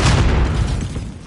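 A grenade blast in the Warzone video game: one deep, heavy boom hits at once and rumbles loudly, then decays slowly over about a second with no voices.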